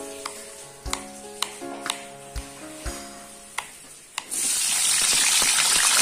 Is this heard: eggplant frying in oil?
yes